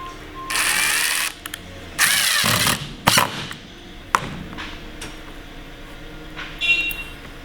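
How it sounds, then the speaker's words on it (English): A power drill whirs in several short bursts, some longer, driving screws into a cabinet, with clicks and bumps between runs, close by and fairly loud. "put your screw on there, and drill through"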